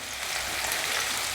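Onions sauté in oil for an empty salna, a continuous loud close frying hiss with a light crackling texture and no speech.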